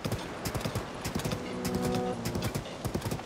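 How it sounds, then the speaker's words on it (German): A horse ridden at pace in Zelda: Tears of the Kingdom, its hooves clip-clopping in a steady, close rhythm throughout, with a brief sustained tonal sound partway through and no talking. "Wir reiten einfach weiter."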